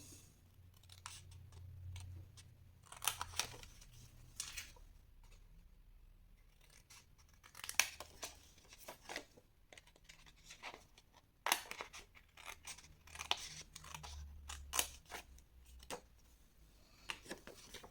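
Scissors cut paper for a scrapbook advent calendar, giving quiet, irregular snips and short crisp cuts close by. The cutting comes in small clusters with brief gaps between, all faint and without any talking.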